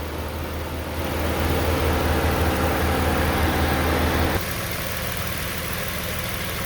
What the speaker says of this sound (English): So now we're gonna let this sucker idle for about 15 minutes.